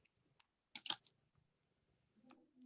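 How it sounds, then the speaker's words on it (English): Computer keyboard typing on an open line during an online security talk: a brief cluster of sharp keystroke clicks near the start, then quieter faint clicks and low murmurs, fairly close but soft. "I can hear the typing sound."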